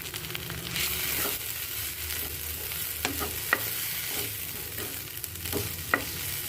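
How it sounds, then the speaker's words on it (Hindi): Softened tomatoes are stirred in a frying pan for a Hyderabadi paneer curry, a quiet steady sizzle with soft scraping strokes of the spoon and a few light taps against the pan, no voices. "टमाटर सॉफ्ट हो गए हैं, इसको एक बार मिक्स कर लेते हैं।"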